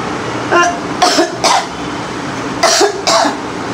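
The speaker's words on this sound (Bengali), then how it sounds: "এই গরমের মধ্যে কেন কাশি হইলো আমি বুঝি না" Four harsh coughs in two pairs, close and loud, separated by short quiet gaps.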